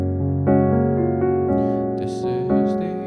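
Gospel jazz piano chords from the song "This Is The Air I Breathe" move through a 2-5-1 progression. Sustained, layered voicings change every half second or so, played fairly loud and alone with no talking.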